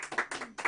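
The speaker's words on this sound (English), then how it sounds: "I can hear your claps." An audience claps after a live song by a performing duo: a short burst of quick, fairly close hand claps in a steady patter.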